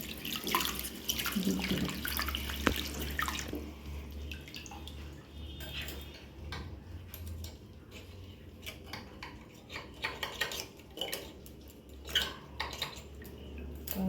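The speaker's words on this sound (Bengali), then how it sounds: "এগুলোকে কচলে কচলে পরিষ্কার করতে হবে।" A dirty aquarium filter sponge is squeezed and wrung in water, giving repeated close splashes, drips and squelches in irregular bursts.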